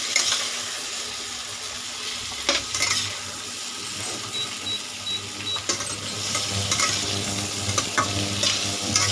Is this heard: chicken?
yes